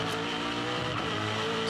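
A V8 touring race car in the 2006 Bathurst 1000 shootout squeals its tyres through the Mount Panorama corners, a harsh engine roar with whining tyre protest, loud and continuous.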